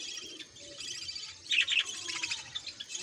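Young budgerigar chicks chirp and squeak in rapid, high bursts while being hand fed, close and lively, with a louder flurry of calls midway and no voices.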